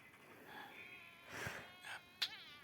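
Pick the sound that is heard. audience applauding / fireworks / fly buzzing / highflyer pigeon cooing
fly buzzing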